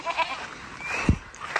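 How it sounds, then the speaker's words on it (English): Goats on a farm bleating, a few short nearby calls with one louder, sharper bleat in the middle, in a quiet outdoor setting. "How's the goats?"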